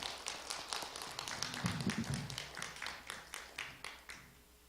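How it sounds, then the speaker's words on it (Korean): A small church congregation claps in welcome at a Wednesday service, a steady run of sharp, fairly close hand claps that thins out and slows toward the end. "박수로 한번 우리 환영하시겠습니다"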